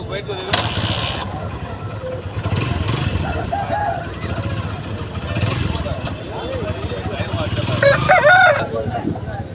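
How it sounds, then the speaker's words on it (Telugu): A Kaki Teka rooster, about 13–14 months old and 3.5 kg, crows once near the end amid the busy Rayachoti livestock market in Annamayya district. Voices talk throughout over a steady crowd din, and mechanical clatter sounds nearby. "వీడియోలో కనిపిస్తుంది కాకిటేక పుంజు"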